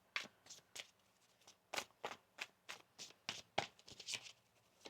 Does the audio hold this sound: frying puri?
no